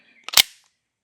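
A single loud, sharp pistol shot from a Sig P365 Fuse handgun at a shooting range, a sudden crack with a short fading tail, alone with no talk around it.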